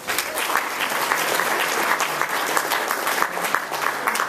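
An audience at an ACLU chapter awards dinner gives a round of steady applause, close and moderately loud, with many hands clapping continuously and no voices standing out.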